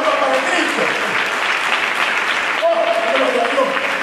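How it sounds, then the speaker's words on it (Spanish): A church congregation claps along during a sermon, with dense, steady hand clapping filling the space while voices call out over it. "Dale palmas para Cristo,"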